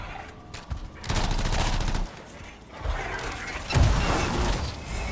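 Rifle gunfire in the video game Anthem, sustained rattling bursts of shots mixed with explosive crashes and combat noise, loud and continuous without speech.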